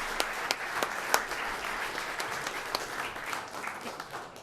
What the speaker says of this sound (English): How about a round of applause, maybe?